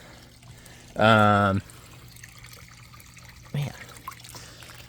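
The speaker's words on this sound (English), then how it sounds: "some water is coming out" A quiet, continuous trickle of water running out of a hot tub filter sits under the scene while someone speaks briefly; a short vocal sound follows later.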